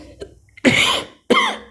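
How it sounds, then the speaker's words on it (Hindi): Two harsh coughs, close and loud, the second following after a brief pause, with a faint breath or throat sound before them. "पता नहीं खांसी क्यों आ रही है"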